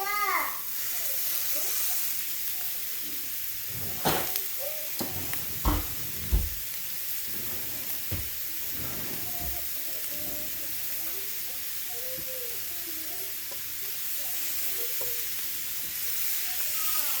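Carne asada meat sizzles in a large frying pan, a steady close hiss running throughout with a few sharp clatters and thumps of handling, while a voice talks faintly over the cooking.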